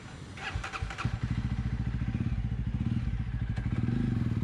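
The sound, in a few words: Jawa 42 motorcycle with Red Rooster exhaust starting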